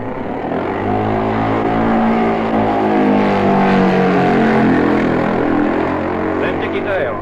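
Bob Anderson's Norton racing motorcycle at the Isle of Man races roars past loud and close, its engine note rising and sweeping through the pass, with a commentator's voice over it.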